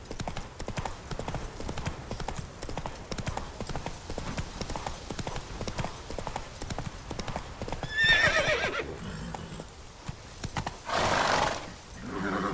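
Rapid clip-clop of a horse galloping in The Witcher 3 open-world game, steady hoofbeats running throughout with a couple of loud whinnying neighs near the end, no talking.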